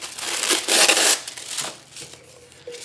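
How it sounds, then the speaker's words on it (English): Tissue paper used as collage paper being crumpled and crinkled close up, a couple of loud rustling bursts followed by quieter crackles, with no talking. "we're going to take a piece of this collage paper, which is just tissue paper"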